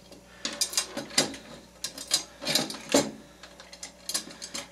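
A new rim being fitted onto a snare drum with a G2 coated double-ply head, with tension rods tightened: a run of small metallic clicks, ratcheting turns and light clanks, close and fairly quiet, with no talk.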